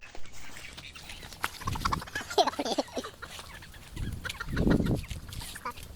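Chickens being caught and moved to a new coop cluck and squawk in two agitated bursts, with flapping and scuffling close by, and quieter rustling between the bursts.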